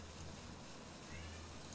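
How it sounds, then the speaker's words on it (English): A house cat meows faintly in the background, a drawn-out moaning call barely rising above a steady noisy room hum. "Cat's having a moan."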